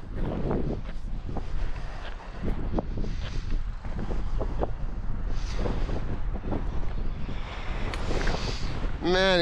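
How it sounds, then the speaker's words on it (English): Strong outdoor wind buffets the microphone in loud continuous gusts, with a voice briefly audible at the very end, at an open site where a single-motor RC car is being set up for a speed run. "Man, it's so windy."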